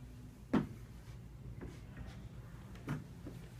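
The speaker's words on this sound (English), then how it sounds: "Hear the click, the door is now locked." A Centor bifold door's self-locking, multi-point MTech hinge hardware gives two crisp clicks as it latches, each a single sharp snap over a steady room hum.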